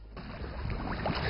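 A small boat on the Pearl River is pushed along with a bamboo pole instead of oars, giving a brief, soft wash of water and hull noise close by, with no voices.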